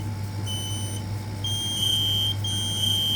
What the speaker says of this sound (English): So this first alarm we're going to do is the Kidde KN-COPE-IC.